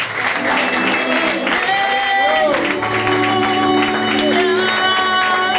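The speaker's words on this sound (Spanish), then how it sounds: "dame un aplauso a ese hombre" A crowd applauding at a Spanish-language evangelical revival service, continuous clapping mixed with cheers, shouts and background music, loud throughout.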